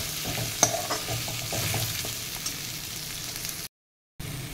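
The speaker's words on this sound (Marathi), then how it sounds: "आता ही शिमला मिरची घालूया, ती पण 1-2 मिनटं परतून घेऊया" Bell pepper sautés in a hot pan with a steady close sizzle and occasional stirring scrapes as the pieces are tossed, with a brief drop to silence near the end and no voices.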